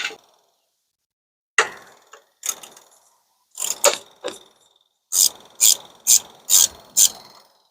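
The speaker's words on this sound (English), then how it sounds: "Now that drain plug is gonna be 16mm socket." A ratchet with a 16 mm socket loosens the oil drain plug on a Ford Bronco. Sharp, close clicking comes in short bursts separated by silences, ending in a quick run of five loud, evenly spaced clicks.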